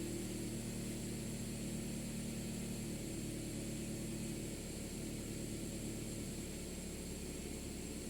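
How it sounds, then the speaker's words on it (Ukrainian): A Toyota RAV4 engine drones steadily at cold warm-up idle revs, with a low rumble and broad mechanical hiss throughout, unchanging and close. "І це в нас ще прогрівочні обороти."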